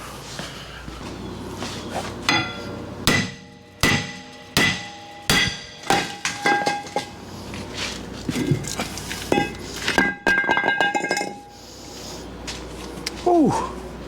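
Repeated heavy hammer strikes on seized, rusted truck suspension during a brake job on a 2019 Jeep, a steady series of ringing metallic blows close by, with scraping and clanking between them.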